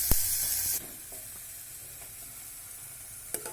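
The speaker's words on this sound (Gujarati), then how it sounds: "પ્રથમ તેની અંદર આપણે જે કાંદાનું છીણ કરીને, સૂકા કાંદાનું છીણ છે તે અંદર ઉમેરી દઈએ" Grated dried onion dropped into hot oil for tempering bursts into a loud sizzle, then settles into a softer steady frying hiss with a brief crackle near the end.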